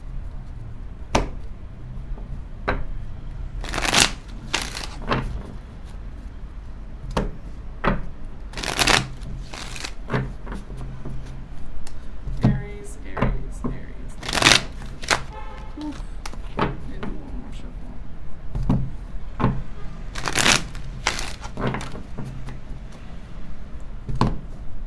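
Tarot cards shuffled in repeated bursts, each a crisp riffle or flutter of stiff cards close to the microphone, separated by short pauses and quieter handling sounds across the whole stretch.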